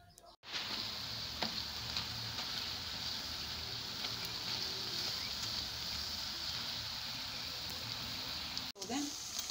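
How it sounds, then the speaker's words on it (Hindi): Pakoras deep frying in hot oil for kadhi pakora: a continuous, even crackling hiss that holds steady for several seconds, starting and stopping abruptly at the edges. "अब हम पकोड़े फ्राई करेंगे"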